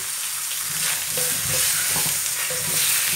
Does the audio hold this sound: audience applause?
no